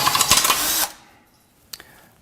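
A power drill, stuck in its workpiece, whirs loudly for under a second, then stops abruptly as it breaks, followed by near silence and a single faint click.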